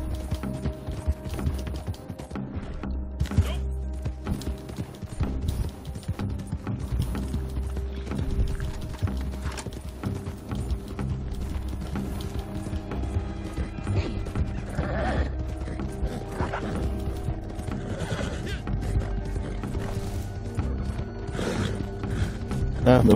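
Rhythmic hoofbeats of a galloping horse in Red Dead Redemption 2 Online over mechanical game sounds and clanks, with an occasional whinny, steady and moderately loud throughout.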